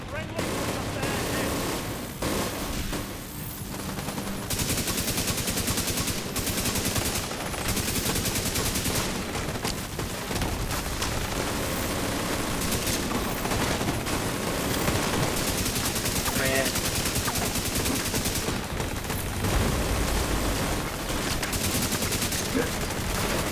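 Video game gunfire, dense automatic fire and blasts sustained for over twenty seconds, loud and continuous with a cluttered, chaotic texture.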